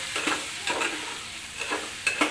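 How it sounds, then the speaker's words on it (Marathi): Rice for masale bhat is tossed in a hot pan, giving a faint continuous sizzle with a few scraping strokes of the spoon against the metal, quiet and close, with no voices. "हे चांगलं परतल्यानंतर आपल्याला ह्याच्यामध्ये टाकायचे तांदूळ तर मी तांदूळ टाकून घेतलेले आहेत"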